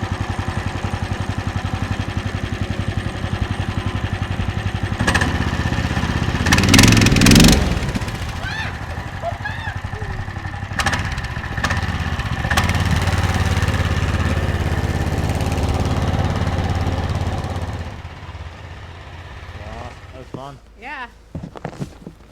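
A push lawn mower engine runs steadily through most of the stretch with a continuous mid-pitched drone, briefly louder near the start, then cuts away to quieter sounds near the end; a person talks over it at times.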